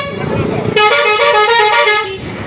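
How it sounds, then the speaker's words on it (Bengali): A bus on the road lets out a long, loud, close horn blast of about a second and a half over engine rumble. "এরকম একটা বাস"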